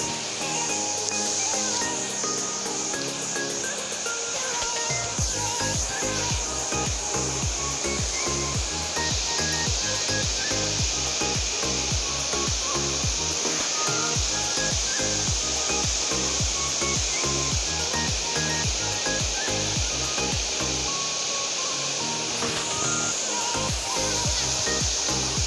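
Laliako waterfall in Sinjai Barat rushes continuously, a loud, dense wash of falling water that stays steady throughout with no voices.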